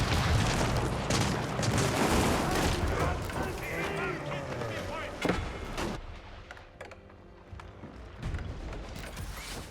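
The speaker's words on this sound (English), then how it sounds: "Looks like Carrack got hit here by some fire ships." Fire ships striking a carrack in an Age of Empires naval battle, with creaking timbers, booming impacts and scattered gunfire in a dense, loud mix that thins out after a few seconds, while a voice talks throughout.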